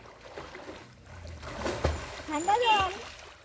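Someone swimming in very cold water, with splashing and sloshing swells building through the second half, loud and close, while people talk nearby.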